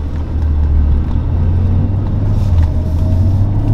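A Maserati Ghibli's engine drones in a low, steady hum with road and wind noise, holding a fairly constant level throughout without a sharp rev.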